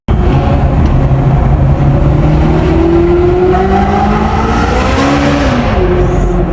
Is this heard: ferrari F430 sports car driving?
yes